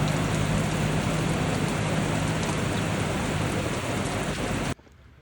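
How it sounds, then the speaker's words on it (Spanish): Heavy rain pours down steadily and loudly, a dense unbroken hiss that cuts off abruptly near the end, falling during a long wait to load maize trucks. "tenemos que esperar a que merme la lluvia"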